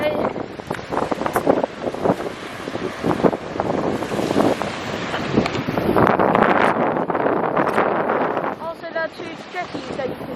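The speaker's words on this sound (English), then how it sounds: "It's quite windy as well." Strong wind at Hamelin Bay beach buffets the microphone in loud, continuous gusts, mixed with surf wash and faint talking.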